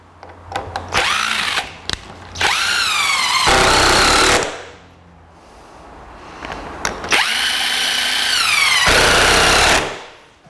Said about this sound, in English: I'm going to put a couple screws in it to hold it in place.